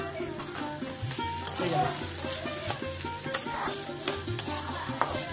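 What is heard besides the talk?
stirring cauliflower pitha filling in a pan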